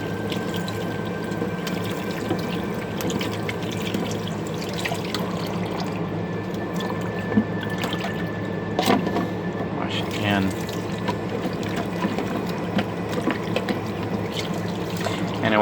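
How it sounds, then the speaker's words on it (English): Tap water runs steadily into a small RV kitchen sink while slimy carrots are rinsed by hand, with splashing and trickling close by under a low background hum. "So having the ability to wash food is like really, really good. I'm washing all the slime off."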